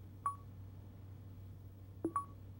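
Telephone DTMF dialing tones from an in-car Auto PC voice-controlled computer: a single short tone pair, then after a pause two more quick tones, clear and moderately loud over a steady low engine-like hum.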